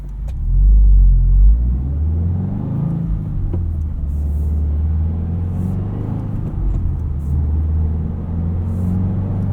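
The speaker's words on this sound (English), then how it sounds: "It's got that classic Subaru rumble, a little bit of gear whine." A 2024 Subaru WRX TR gives a deep, steady exhaust rumble while driving, with a louder swell early on and then an even drone with faint gear whine, heard from inside the car.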